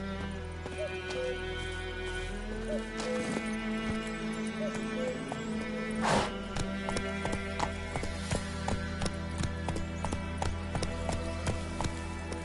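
Roach, a horse in a video game, gallops with steady rapid clip-clop hoofbeats and an occasional whinny, up close and loud over a constant background of game music.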